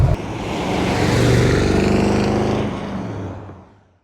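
A 1967 Plymouth GTX with a 426 HEMI big block engine runs loud and close, a deep steady rumble that holds for several seconds before fading quickly at the end.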